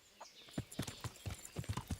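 Hooves of a horse in Kingdom Come: Deliverance, the medieval role-playing game, clopping in a brisk, close rhythm of about a dozen strikes, loud and alone.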